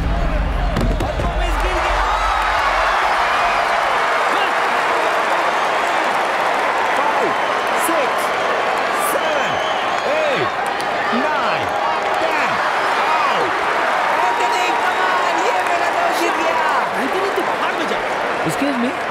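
A fight crowd cheers and applauds loudly in a dense continuous roar of clapping and shouting, opening with a brief low thud and spoken voices.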